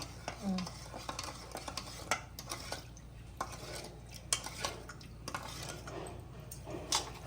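Lemon rice (pulihora) being stirred and mixed in a pan gives quiet scraping and soft clinks of a spoon against metal, irregular and close, with faint background hum.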